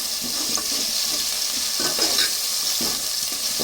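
Ginger garlic paste fries in a pan for a village-style fish curry, giving a steady loud sizzle with faint stirring scrapes and no voices.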